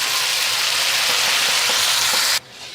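Tomatoes hitting browned onions in hot frying oil give a loud, steady hissing sizzle that stops abruptly near the end.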